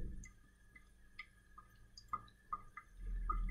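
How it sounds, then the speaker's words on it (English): Ethanol dripping from a fractional distillation apparatus: a few faint, isolated drips landing at irregular intervals, soft and close, over a low hum with no talking. "More ethanol will drip down, no doubt."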